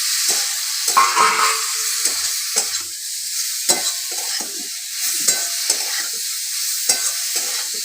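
Small cut potato pieces fry in a pan for an aloo curry, with a steady hiss broken by repeated scraping stirs of a spatula, close and clear, no talking.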